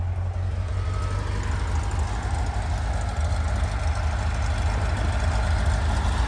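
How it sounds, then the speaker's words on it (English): Freshly rebuilt 1967 Porsche 912 engine idling steadily after starting, a continuous low, even rumble with a fine buzzy texture, alone and moderately loud. "Okay, let's fire this thing up."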